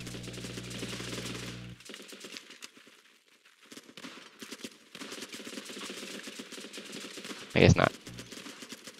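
Gunfire from the video game Running with Rifles, with sniper rifle fire mentioned: gunshot clatter runs through the clip and one loud, sharp burst lands near the end, while someone talks over much of it.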